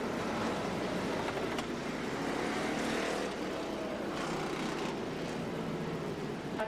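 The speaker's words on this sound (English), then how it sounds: "IMCA Hobby Stocks are racing" IMCA Hobby Stock race cars roar around a dirt track in a steady, dense wash of engine noise that stays loud and unbroken throughout.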